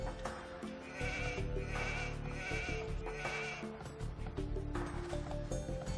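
Sheep bleat in the Age of Empires 2 HD Edition video game, repeated nasal baa calls rising over a steady bed of game music and ambient sound, fairly faint overall.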